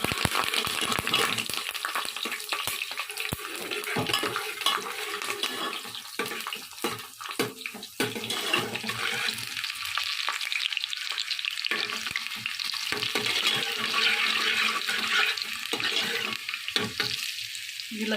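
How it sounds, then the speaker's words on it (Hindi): Curry leaves and whole garlic cloves fry in hot oil for arvi, a steady close crackling sizzle with stirring and occasional utensil clinks throughout, no talking. "ऑयल ज़रा सा गर्म हो गया तो इसमें कड़ी पत्ता डालेंगे, लहसुन डालेंगे साबुत"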